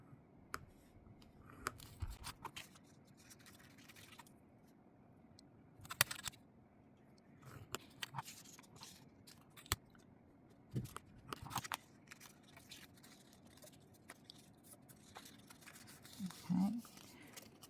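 Paper edges are scored for folding while making a flip pocket for ephemera, producing sporadic close scratchy strokes and crisp scraping bursts spread across a quiet room.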